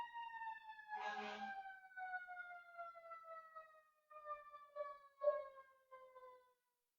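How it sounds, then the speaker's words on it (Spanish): Several emergency vehicle sirens wail outside, their rising and falling tones overlapping clearly for several seconds, then fading as they pass into the distance. "Las sirenas."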